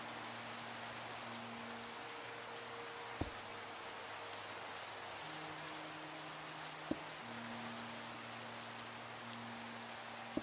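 Rain in the Minecraft video game falls as a steady, even hiss of drops with no letup, joined by a low held musical drone and a few faint clicks.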